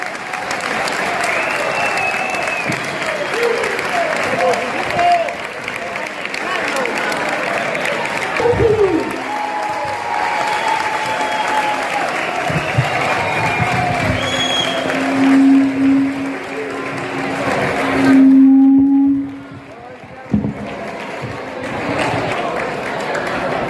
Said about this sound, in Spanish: Un fuerte aplauso para Isidro.